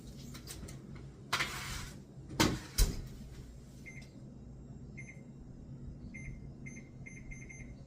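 A kitchen oven's timer is set: a cupboard or oven door bangs a few times, then short high electronic beeps chirp in small clusters, faint and close, with no one talking.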